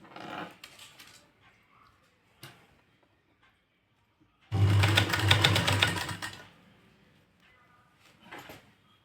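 A sewing machine runs a single seam to attach lace, with a loud burst of rapid stitching in the middle, preceded and followed by quieter handling sounds and brief pauses.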